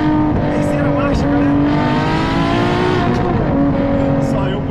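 Ferrari LaFerrari engine accelerating hard in third gear through a curve, a loud continuous high-revving roar with rising pitch and gear-change dips, with speech running over it throughout.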